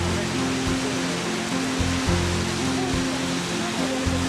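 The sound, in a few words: waterfall in the Caucasus mountains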